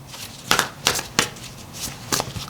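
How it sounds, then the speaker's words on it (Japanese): An oracle card deck being handled, with several brisk, papery riffling bursts spaced across a few seconds, close and fairly clear over a quiet room. "では最後にもう一枚オラクルカードを引いてみますね。"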